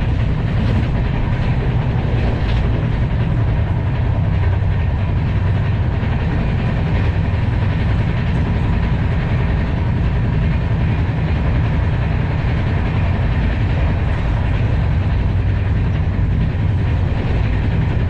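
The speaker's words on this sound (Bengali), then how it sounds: "ট্রেন কিন্তু খুব সুন্দর, তার গতিতেই যাচ্ছে।" Shatabdi Express running between New Jalpaiguri and Howrah, heard as a steady loud rumble of wheels on rails with faint rhythmic clatter, continuous and close throughout, without speech.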